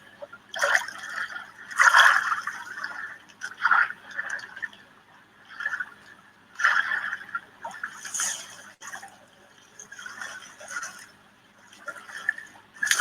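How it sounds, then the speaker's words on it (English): Water of Puget Sound in the San Juan Islands lapping and splashing in irregular bursts, close by with quiet gaps between, no talk. "Here's a little bit of the sounds of the water."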